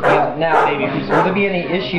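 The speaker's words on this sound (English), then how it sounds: "That was a dog flying behind us." A dog barks and yips loudly and close by, two sharp bursts heard over a man's nearby speech.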